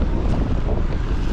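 Wind rushing past a cyclist riding outdoors, a loud steady buffeting roar across the microphone throughout, close and alone with no voices.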